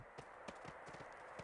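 Donkey hooves clip-clop at a steady walking pace in the 2001 PC video game Clive Barker's Undying, faint and regular over a constant ambient game bed.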